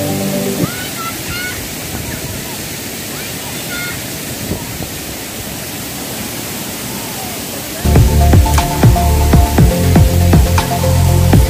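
Thotikallu Falls near Bangalore rushing close by, a loud continuous roar of water filling the whole stretch, with a sharper, busier burst of splashing toward the end.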